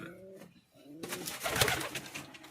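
Lotan pigeons in a cage give a couple of soft, low coos up close, followed by a burst of rustling wing flutter and scuffling as the birds move about.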